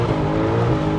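A 513 bhp Mercedes C63 AMG with traction control off gives a steady, loud engine drone under acceleration, muffled as heard from inside its well-insulated cabin.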